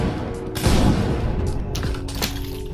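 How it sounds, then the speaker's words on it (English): Canuck shotgun in a VR gun game fires loudly, with a heavy booming blast near the start followed by further crashing shots and bursts, close and harsh over a noisy background. "Let's do the Canuck. Shotgun. This has actual recoil."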